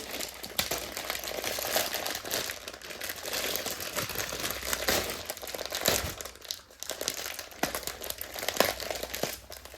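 Plastic cover crinkling and rustling steadily as bangles of one-gram gold jewellery are unboxed, close and continuous with sharp crackles throughout and no talking.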